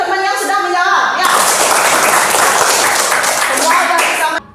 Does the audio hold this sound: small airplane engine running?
no